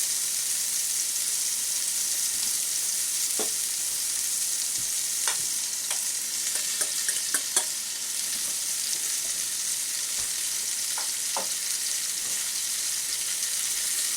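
Garlic and heirloom tomatoes sizzle in a pan, a steady soft frying hiss with occasional small pops and clicks as the food is stirred and tossed.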